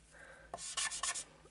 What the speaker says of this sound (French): dessiner, mettre des taches, voilà, par un hasard sur votre papier calque